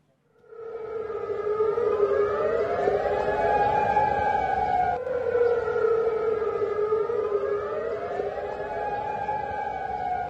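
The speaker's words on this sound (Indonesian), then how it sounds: "memicu aktifnya sirine peringatan serangan udara di sekitar pangkalan" An air raid warning siren near a military air base in Jordan wails loudly and steadily, its pitch rising and falling in long sweeping cycles, heard alone without voices.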